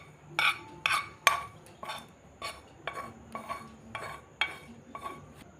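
Metal spatula clinking and knocking against a pan while gram flour (besan) dry-roasts, about ten sharp, irregularly spaced strikes with quiet scraping between them and no talking.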